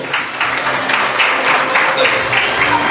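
Wedding reception guests applaud the godfather as he steps up to speak, a steady wash of clapping filling the room at moderate volume.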